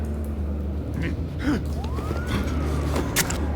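A police siren in the Batman Telltale video game wails faintly in the background, a single rising and falling sweep over a low steady rumble of game ambience.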